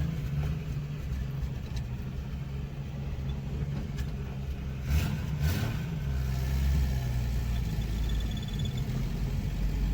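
A 1964½ Ford Mustang project car driving for the first time out of a garage, its engine running with a steady low rumble and a brief swell of revving partway through.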